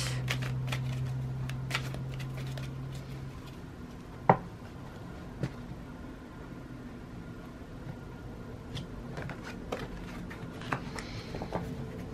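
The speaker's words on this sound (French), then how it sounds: "Je vais retourner 2 cartes." Tarot cards are shuffled and turned over in a quiet room, giving faint, sparse papery flicks and one sharper snap among soft rustling.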